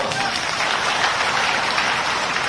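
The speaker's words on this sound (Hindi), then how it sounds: "अरे जब स्वागत करना तो जोरदार ताली बजा के करो।" Crowd applause at an outdoor political rally in Sitamau, Mandsaur, steady dense clapping with a hiss-like texture throughout, moderately loud and fairly distant, sustained without breaks.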